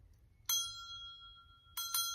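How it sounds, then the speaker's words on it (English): A small metal bell struck once, its bright, pure tone ringing out clearly and decaying slowly, followed by two quick further strikes near the end, all in an otherwise quiet room. "Let's ring the bell."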